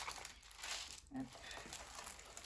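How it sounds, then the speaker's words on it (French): Thin plastic film crinkles and rustles as it is smoothed flat over a diamond painting during an unboxing. Soft, close crackling continues throughout, with one brief louder crinkle partway through. "Il faut bien étaler le film plastique pour qu'elle soit plus droite."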